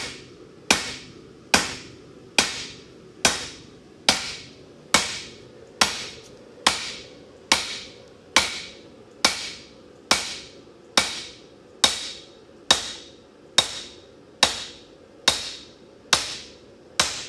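A blacksmith hammering metal flat, with about twenty loud, sharp ringing blows at a slow, very regular pace, each strike followed by a brief decaying ring over a low steady hum.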